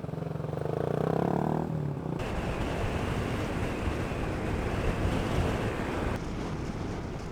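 Strong wind buffets the microphone during a ride on an Easyride 150 FI 2024 motorcycle near Dingalan, Aurora, a loud, steady broadband roar that starts abruptly about two seconds in after a short stretch of engine hum.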